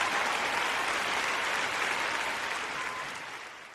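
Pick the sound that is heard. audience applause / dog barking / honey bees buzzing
audience applause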